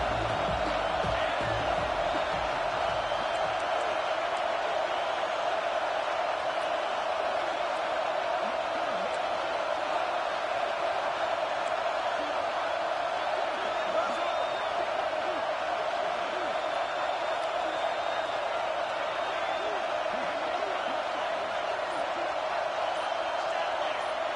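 Football stadium crowd cheering during a game, a dense, steady roar of many voices that stays loud and even throughout, with a broadcast commentator talking over it.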